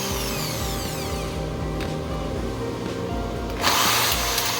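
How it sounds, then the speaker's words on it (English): A power drill grinds through the heads of rivets on a school bus's ceiling panels, a steady close whine with rising pitch sweeps early on and a sharp harsh burst near the end. "then she's drilling the heads off."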